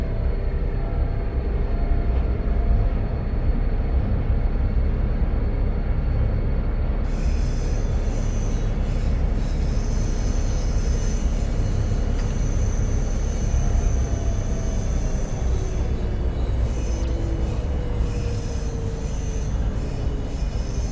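A 26-wagon train runs steadily through a snowy winter setting in Train Sim World 2, a continuous loud rolling rumble with faint wheel squeal and screech tones throughout, no talking.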